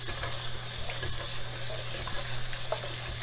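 Tap water runs steadily into a pan of hand-shelled pigeon peas during washing, a continuous close splashing stream for Jamaican peas and rice.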